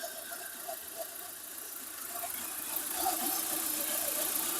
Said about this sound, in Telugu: ఇంజిన్ అయితే రన్నింగ్ పరంగా మనం చూసుకుంటే స్మూత్ రన్నింగ్ లో ఉందండి